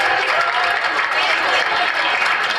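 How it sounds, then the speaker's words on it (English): An audience at a cultural festival gives the performers a loud round of sustained applause, continuous and close, with a voice faintly mixed in. "a huge round of applause for all the performers of the day"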